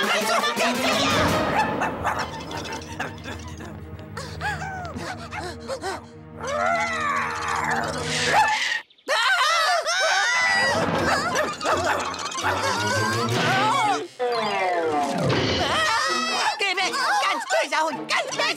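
A dog barks and whines repeatedly amid loud, agitated shouting voices, the barking close and mixed in with the yelling.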